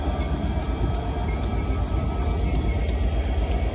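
A Class 67 diesel locomotive at Hereford station gives a loud, steady, close rumble with a continuous engine drone and faint periodic clicks, and no voices.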